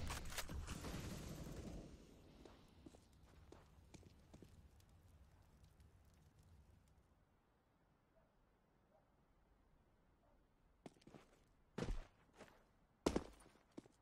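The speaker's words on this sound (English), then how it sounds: "I got footsteps over here too" Faint footsteps patter across the Mirage map in a video game, following a loud opening burst, with sharp gunshot-like cracks near the end.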